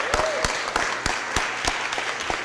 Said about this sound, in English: Let's give Rosalie and her family a big round of applause